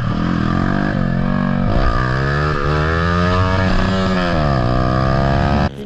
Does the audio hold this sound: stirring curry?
no